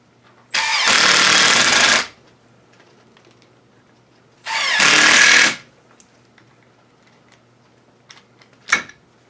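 A power tool drives screws into a lathe faceplate for a large maple vase, two loud sustained runs of about a second each, then a short burst near the end, with quiet gaps between.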